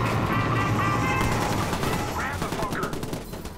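Rapid bursts of automatic gunfire from the Watch Dogs video game rattle loud and dense, with machine-gun volleys sustained across the moment against a busy game soundscape.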